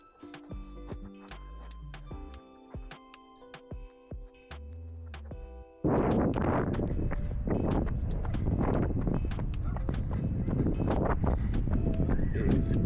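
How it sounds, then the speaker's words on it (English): Heavy, roaring wind buffets the microphone on a freezing outdoor run after a quieter opening stretch, loud and continuous to the end. "Windy and freezing."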